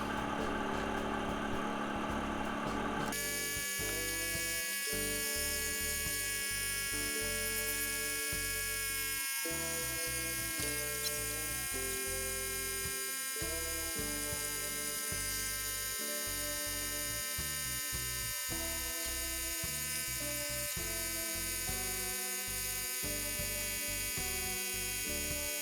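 An AquaPlanet Supa Pump Elite electric pump runs steadily alongside a van, a loud continuous motor drone with a high whine and a low throbbing pulse that holds close and unbroken throughout.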